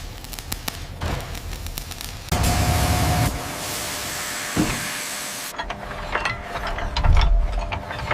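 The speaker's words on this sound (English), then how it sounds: "Keep tightening those mounts. We need maximum torque on the recoil system before sundown." Mechanical ratcheting and clanking as recoil system mounts are tightened on a Krupp K5 railway gun at a destroyed coastal battery, a busy run of clicks and metallic grinding with hissing, loud and close.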